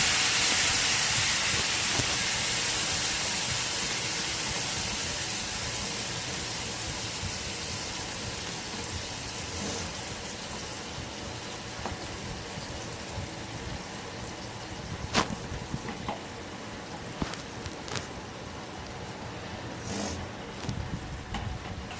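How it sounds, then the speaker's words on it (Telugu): Chukkakura (sorrel leaf) paste frying in oil on a low flame, a steady broadband hiss and crackle that fades slightly over time, with occasional sharp clicks of a utensil against the pan. "అదే నూనెలో మనం మిక్సీ పట్టుకున్న చుక్కకూర పేస్ట్ని వేసి సిమ్లో పెట్టి బాగా దగ్గర పడేదాకా ఫ్రై చేసుకోవాలి."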